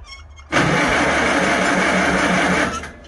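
A small engine with a newly installed in-line fuel filter catches and roars to life abruptly, running loud and steady close by for about two seconds before starting to fade.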